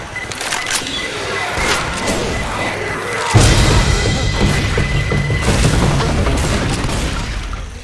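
Grenade blast in a zombie shooter's Dead End campaign: a sudden heavy boom about midway, then sustained rumble and crackling gunfire amid a dense, loud mix of game noise.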